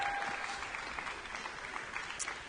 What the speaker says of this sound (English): Sofia Baram and Daniel Chumentsev here on the ice, applauding the scores of the Canadians who have just completed their short program